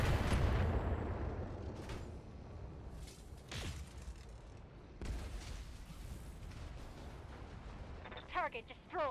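Mech weapons including a PPC firing in the video game BattleTech, a heavy blast opening the passage and fading into rumble, followed by further bursts and impacts, with someone talking over it.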